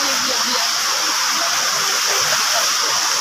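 Water rushing loudly and steadily at Lambingan Falls, a dense broadband roar that fills the whole moment without a break.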